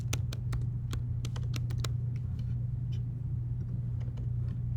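Code is typed on a computer keyboard as rapid, irregular clicking keystrokes close up, running over a constant low hum from the room or computer.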